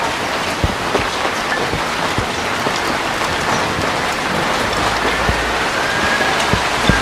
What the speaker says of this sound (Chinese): 今天这个天啊下雨了